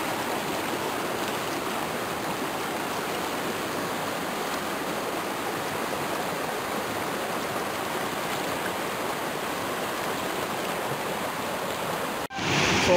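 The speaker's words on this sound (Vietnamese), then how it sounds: "Đây nằm giữa dòng suối dưới tán cây." A forest stream rushes over rocks beneath a tree canopy on the Ray River near Hòa Bình waterfall, a steady, dense broadband wash of flowing water that continues unbroken for the whole stretch before a brief handling bump at the end.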